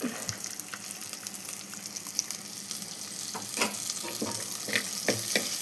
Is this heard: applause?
no